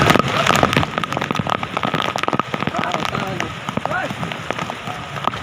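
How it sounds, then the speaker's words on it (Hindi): Steady rain patters and crackles on surfaces in a village, a dense, close hiss of drops with sharp taps, while people talk underneath. "बरसात में जो मज़ा है।"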